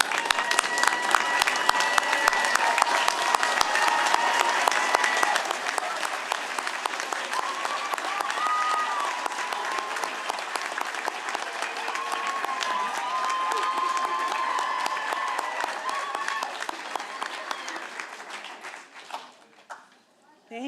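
A commencement audience applauds graduates' families at an occupational therapy ceremony, a dense, sustained wash of clapping that stays loud for most of the stretch and fades at the end.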